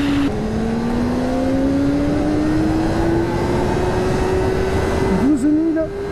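A 2024 Kawasaki Ninja ZX-4RR accelerates hard in third gear toward 10,000 rpm and about 100 km/h, its high-pitched engine note climbing steadily and loudly for several seconds before briefly wavering near the end.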